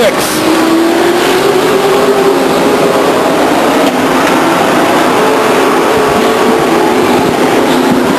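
Stock cars racing at Stockton 99 Speedway exit turn four in a 1999 race, engines roaring loud and sustained with a rising pitch as the pack passes, while a commentator's voice runs over it.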